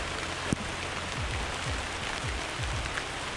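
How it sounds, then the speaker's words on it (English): Steady rain falls in a Costa Rican rainforest near the Bri Bri waterfalls, a dense even patter of drops on leaves and surfaces, continuous and close, with scattered low knocks beneath. "Está lloviendo."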